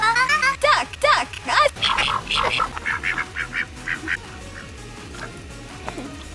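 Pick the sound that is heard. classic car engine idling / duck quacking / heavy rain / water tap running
duck quacking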